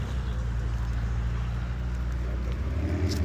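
A McLaren idles at a car meet, giving a low, steady engine rumble close by with faint outdoor background noise.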